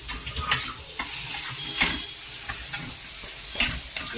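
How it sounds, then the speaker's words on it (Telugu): Mango dessert filling fries in ghee while being stirred, a soft continuous sizzle punctuated by regular scraping strokes and light taps of the spoon against the pan, close and moderately loud, with no one talking. "నెయ్యిలో కొంచెం పెట్టి వేగితే చాలు"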